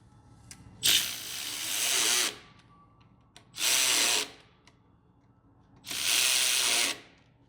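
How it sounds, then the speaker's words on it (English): Three loud bursts of a 3/8-inch electric ratchet tightening motor bolts on an engine install, each buzzing for about one to two seconds with quiet pauses between. Close and alone, with no talk. "Did you count the 3/8 electric ratchet Ugga Duggas?"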